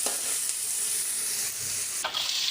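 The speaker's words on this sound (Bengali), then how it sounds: "এগুলো একটু লাল লাল করে ভেজে নেব" Pointed gourd and onion fry steadily in a hot pan with a dense, continuous sizzle, broken by a few soft scrapes of a spatula stirring; no one speaks.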